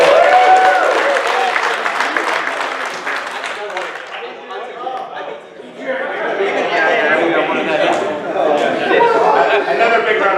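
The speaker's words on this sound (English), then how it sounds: "Another big round of applause for TJ." A crowd at a tabletop wargaming tournament claps for a player, steady applause mixed with lively chatter and a few chuckles, with voices talking over it throughout.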